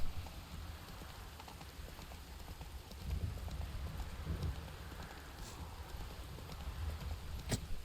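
Horse hooves clip-clop steadily through The Witcher 3 game world, a continuous mid-level trot mixed with rain-like patter and ambient wash, with no speech.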